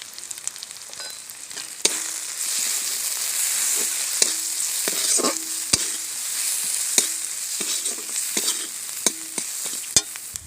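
Turmeric powder, salt and a spoonful of Kashmiri chili sizzle steadily in oil in a frying pan for a spicy crab curry, with a constant hiss broken by sharp clicks and scrapes of a spoon stirring against the pan.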